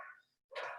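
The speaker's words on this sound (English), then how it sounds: "Sorry if you can hear my dogs in the background." Two quick dog barks with a brief pause between them, somewhat faint and distant.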